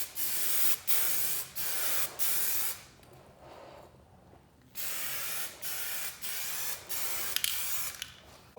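Short hissing bursts of a spray paint can laying a light second coat on car emblems, about ten evenly spaced sprays with a longer pause in the middle, close and otherwise quiet.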